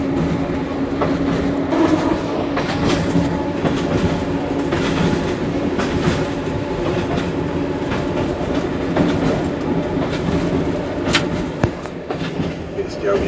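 A train departing Ambert station runs steadily on its rails with a continuous rumble and rhythmic clickety-clack, loud and close from on board, while a voice talks over it now and then.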